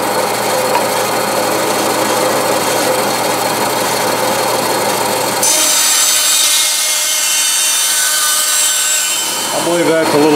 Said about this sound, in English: I'm going to try cutting that in the bandsaw